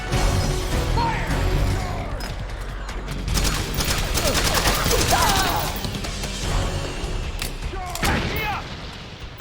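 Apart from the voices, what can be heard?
gunfire in video game Metal Gear Solid 4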